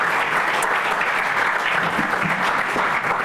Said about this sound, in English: If you can give our panelists a round of applause here from Dementia Friends.